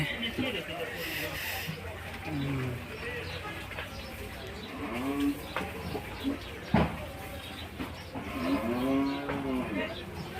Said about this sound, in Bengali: দেখুন বিভিন্ন গরু আছে